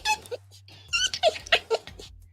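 Small puppy named Fizzgig growling and grumbling close up in short, uneven bursts, with a low sustained rumble beneath sharper whiny snarls.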